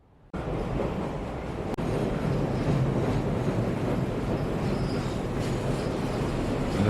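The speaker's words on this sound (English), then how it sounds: "And that sounds more like a freight train." A freight train sound effect starts abruptly and runs as a loud, steady rumbling roar, continuous and close, with no talk.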